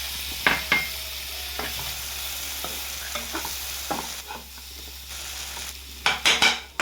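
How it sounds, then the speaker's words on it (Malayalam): Cleaned fish pieces go into a pan of spices and oil for a Kerala fish curry, giving a continuous sizzle broken by clattering stirring and scraping, louder toward the end, with no speech. "ഇനി കഴുകി വൃത്തിയാക്കി വെച്ചിരിക്കുന്ന മീൻ ഇട്ട് കൊടുക്കാം."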